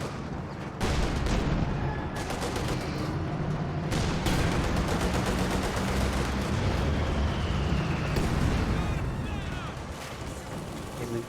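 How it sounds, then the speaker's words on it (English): Cannon and mortar fire in the Company of Heroes 2 video game sounds as repeated heavy booms and explosions over a dense, continuous battle din, loud and close throughout. "And now double the cannon warfare, they're both working together here."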